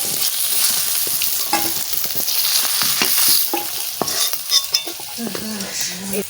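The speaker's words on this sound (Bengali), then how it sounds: "চিংড়ি মাছ ভাজা করে নিচ্ছি" Prawns sizzle and crackle in hot oil, with occasional scrapes of a spatula stirring through the pan, close by and steady.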